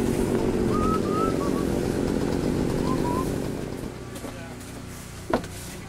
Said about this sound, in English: Curtis is sawing the tree